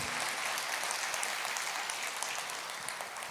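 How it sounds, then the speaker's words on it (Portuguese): A crowd applauds steadily, a dense wash of clapping that stays at an even level throughout. "Pode aplaudir o Senhor."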